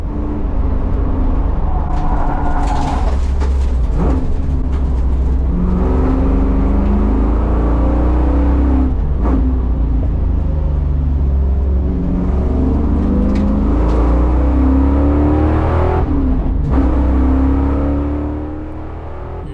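A Chevrolet Caprice with a T56 manual gearbox laps the Streets of Willow track. Its loud engine revs up and drops through repeated shifts, with tire and wind noise, then quietens briefly at the end.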